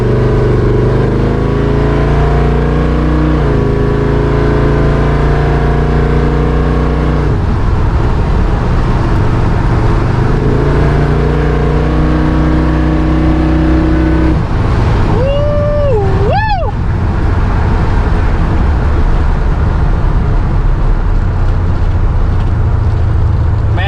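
A truck fitted with a Cutters Performance 350 combo engine idles loudly with a steady rumble, then revs in repeated pulls and drives off, the engine close and dominant throughout.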